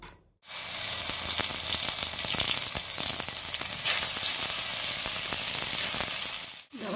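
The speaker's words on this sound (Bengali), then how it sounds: "এবার টমেটোগুলো ভেজে নেব" Tomatoes fry in a little oil with a loud, dense sizzle that starts abruptly and runs steadily, with crackling spatters and occasional clicks, before it briefly drops away near the end.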